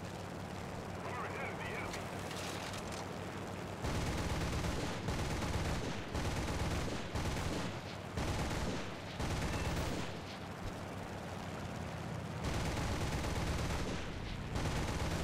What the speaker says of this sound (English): Got my cannons up in a second.